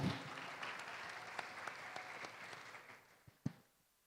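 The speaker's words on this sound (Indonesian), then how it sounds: "Sebelumnya tepuk tangan dulu dong biar semangat, biar semangat." Faint audience applause at a conference session on the future of work and education, a soft, steady patter of many hands that dies away, ending with a couple of isolated claps.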